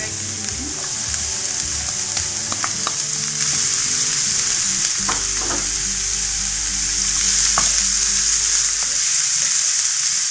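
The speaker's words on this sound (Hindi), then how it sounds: "इसके अंदर मैं पेपर ऐड कर रही हूँ" Peppers fry in a pan for salsa sauce, a loud, close, continuous sizzle with occasional stirring scrapes and light taps, and a low hum underneath partway through.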